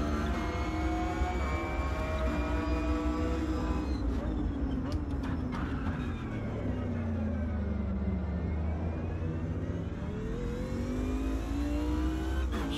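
A race car engine in the sim racing game Automobilista 2 revs and shifts continuously, its pitch climbing and dipping through the gears, loud and close, with a voice talking at times over it.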